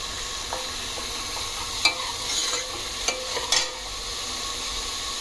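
Bell pepper and mixed vegetables stir-fry on high gas, with a steady sizzle and occasional scraping stirs of a spatula in the pan, close and without talk.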